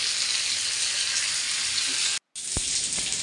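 Pomfret frying in a pan with oil, a steady broadband sizzle throughout, briefly cut off, then resuming with a couple of sharp spatter pops.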